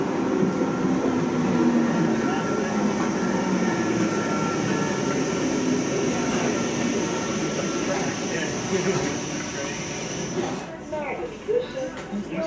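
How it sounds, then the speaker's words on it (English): A Sprinter train rumbles steadily as it arrives at Schiphol Airport station, a continuous low roar with a high whine on top. Brief voices come up near the end. "Has come to leave Schiphol Airport by train, and here it's coming already"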